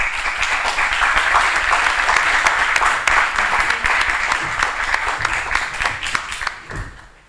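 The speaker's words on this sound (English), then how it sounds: "So I would like you to give a big applause to them." Sustained audience applause at a European cities conference in Larissa, a dense wash of many hands clapping steadily for several seconds before fading out at the end.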